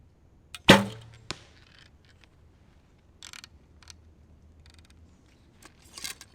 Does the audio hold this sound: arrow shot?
yes